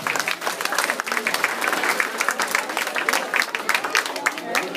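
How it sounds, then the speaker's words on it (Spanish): Sustained crowd applause for the Diablos dancers of San Sebastián Tecomaxtlahuaca at an outdoor dance performance, dense, loud clapping that continues throughout with a lively crowd. "despidámonos con un fuerte aplauso, señores y señores, a los diablos de Tecomaxtlahuaca"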